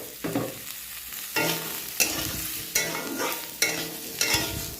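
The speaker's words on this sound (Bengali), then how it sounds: "এবার জিরের গুঁড়ো, ধনের গুঁড়ো দেব, দিয়ে এবার একটু কষবো।" Fried potatoes being sautéed with cumin and coriander powder in a pan, sizzling under rhythmic bursts of scraping stirs roughly every half-second to second, close and clear with no speech.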